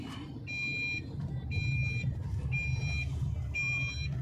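Seat belt warning chime in a Tata Nexon CNG XM being driven: a high electronic beep repeating in half-second bursts about once a second, four times, over a steady low engine and road rumble.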